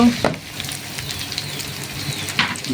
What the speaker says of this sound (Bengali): দিয়ে পেঁয়াজটা লাল লাল করে ভেজে নেব